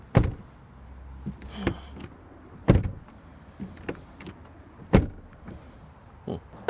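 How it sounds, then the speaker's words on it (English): The door of a 2020 Audi R8 V10 RWD, which doesn't shut easily, is slammed several times in succession, each sharp thud followed by quiet rattling and clicks, close by with pauses between attempts. "Doors which don't shut as easily as they should."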